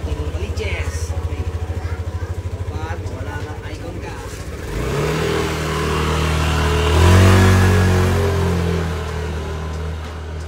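A car engine is cranked and started after an ABS repair, then settles into a steady, moderately loud idle that swells briefly as it revs, with people talking over it.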